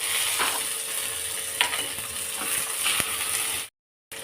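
Curry leaves hit hot oil with a steady, bright sizzle and spitting crackle, close and continuous, with a few sharper pops before cutting off abruptly.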